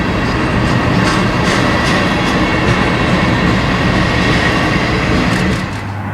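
Train passing a grade crossing in Southern California, a loud, close continuous rumble of rolling railcars with rhythmic wheel clatter and faint bell-like tones, easing slightly at the very end.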